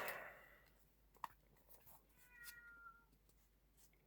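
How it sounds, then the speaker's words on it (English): A pet cat outside a door seeking attention, faint scratching and a soft meow or two at a distance, with small clicks and a sharp tap amid quiet room noise. "My cat was scratching at my door."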